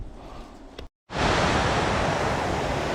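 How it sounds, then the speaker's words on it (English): A waterfall in the woods roars as a dense, steady rush of falling water, loud and close, with a fainter wash of the same noise before a brief cut. "I got a waterfall there."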